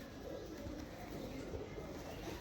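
A pigeon cooing in a steady low murmur at a home pigeon sale, with voices and background noise around it.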